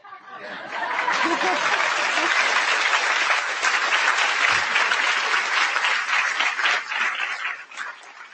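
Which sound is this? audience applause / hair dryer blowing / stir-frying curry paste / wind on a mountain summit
audience applause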